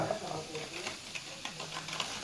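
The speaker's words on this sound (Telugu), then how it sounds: "అప్పలాలు అయితే రెడీ అవుతున్నాయండి అందరికీ రెండు రెండు వేయాలి కదా" Appalalu (papads) fry in hot oil with a steady, faint sizzle, broken by soft scraping and stirring taps close by.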